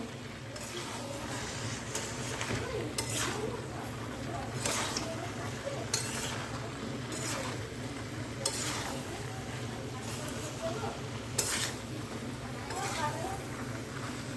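Potatoes and cauliflower are stirred and sautéed in a pan for a rohu fish curry, giving a steady low sizzle with regular soft scrapes and clinks of the spoon, and a voice faintly in the background.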